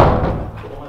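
A door bangs once in an abandoned school building, a heavy close thud that rings briefly through the empty space and fades over about a second.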